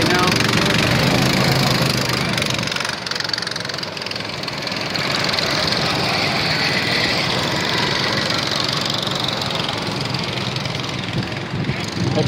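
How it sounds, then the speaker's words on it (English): Go-kart engines racing at Daytona Beach, a dense continuous buzzing drone of small motors that stays loud throughout, with people talking over it. "Got go-kart racing going on right now."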